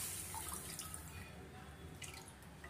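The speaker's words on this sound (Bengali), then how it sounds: "এবার আমি এখানে মালাইয়ের জন্য 500 ml দুধ দিয়ে দিচ্ছি" Half a litre of milk poured into a pan to make malai for patishapta, a steady trickling liquid sound, close and moderately quiet, with no talking.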